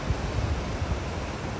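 Ocean surf rolls at Honolulu, Hawaii, a low, continuous wash of waves mixed with wind buffeting the microphone, steady and fairly soft throughout with no talking.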